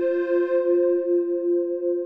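Tame, mellow wavetable synth pad for melodic house, sustaining one steady harmonic tone with a soft swelling attack and gentle wobble, played alone at moderate level.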